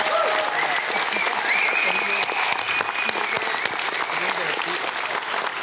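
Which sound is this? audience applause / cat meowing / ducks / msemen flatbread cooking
audience applause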